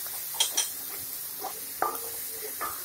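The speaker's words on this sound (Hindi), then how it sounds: "ये देखिए, इस प्रकार से पलटे को चलाते रहेंगे।" A spatula stirs chonle beans with vegetables in a pan, soft scraping clinks at irregular intervals over a steady faint sizzle, close and without talk.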